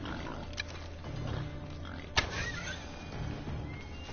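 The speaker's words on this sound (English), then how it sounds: "I hate these pigs, man." Pigs oinking in the Assassin's Creed Odyssey video game, a few short grunts and one sharp squeal over a steady low game ambience, with no talk.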